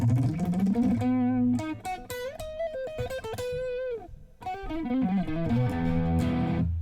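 Overdriven electric guitar on the neck pickup through a DOD FX50 or Fender YJM overdrive pedal plays a melodic lead line with sustained bent notes and quick runs, warm and round in tone, loud and continuous with no voices.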